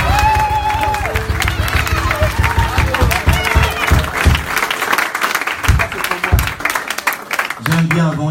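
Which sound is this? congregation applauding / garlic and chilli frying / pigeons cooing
congregation applauding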